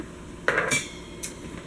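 A cooking pot for a Pampered Chef quick cooker is lifted and handled, giving a couple of short metallic clanks and clatters close by with quiet gaps between, no talking.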